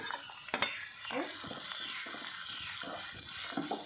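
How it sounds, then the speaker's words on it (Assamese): Onions sizzle steadily in hot oil, with intermittent scraping and stirring strokes against the pan. "একেখিনি তেলতে পিঁয়াজখিনি ভাজি লৈছোঁ"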